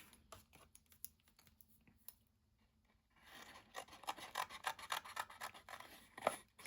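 Scissors cut along the edge of a stamped paper ticket: quiet scattered snips at first, then a denser run of close, crisp cutting and rustling paper, with no talk.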